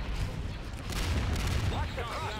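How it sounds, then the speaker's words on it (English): Space battle in Star Wars Empire at War, a burst of overlapping explosions and weapon blasts rumbling under a voice. "The space is alive with the sounds of explosions!"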